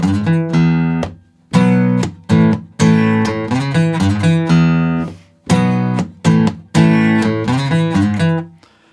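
Guitar playing a song's intro line: loud, close, ringing plucked phrases in repeated bursts with short pauses between them, played alone without any talking.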